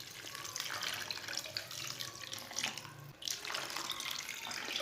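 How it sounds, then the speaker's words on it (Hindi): Water pours into a pan of frying potato and pea curry, a rushing, splashing stream with a steady hiss that briefly dips partway through and then continues, with no talking. "इसमें पानी डाल लेंगे।"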